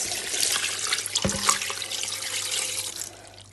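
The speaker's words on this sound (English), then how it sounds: "Then I'm going to add water to it," Water pours steadily from a tap into a pot of bitter leaf soup with diced onion, a close hissing stream with a brief knock partway through, tapering off at the end.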